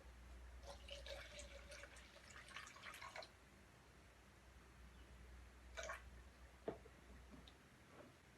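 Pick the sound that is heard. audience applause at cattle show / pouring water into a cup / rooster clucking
pouring water into a cup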